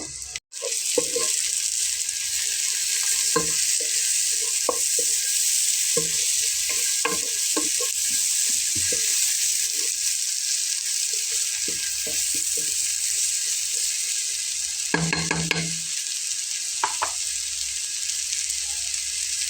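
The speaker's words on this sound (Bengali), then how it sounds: "খুব বেশি ভেজে নেব না, পেঁয়াজটা আমি একটু হালকা ভেজে নেব।" Onion frying lightly in oil while being stirred for a Bengali beef curry, a steady close sizzle with scattered spatula taps throughout and a louder burst of scraping toward the end.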